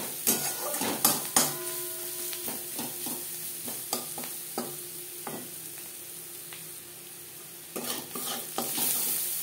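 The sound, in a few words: onions frying with turmeric in a pan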